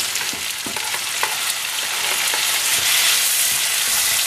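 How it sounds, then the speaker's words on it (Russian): Tomatoes frying in a pan with squid and fish for Spanish paella, a loud continuous sizzle with occasional stirring clicks and scrapes, close up and without speech. "Все это обжариваем минут 10-5, чтобы помидоры, как говорится, растаяли"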